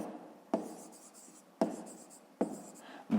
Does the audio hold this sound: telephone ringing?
no